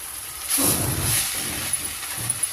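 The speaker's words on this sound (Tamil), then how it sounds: "நல்லா எண்ணெயிலேயே ஒரு நிமிஷம் அப்படியே வதக்கி விட்டுடலாம்" Spinach-type greens (thoyya keerai) being sautéed in hot oil, a steady hiss and sizzle that swells at about half a second and then holds evenly to the end, close and moderately loud with no voices.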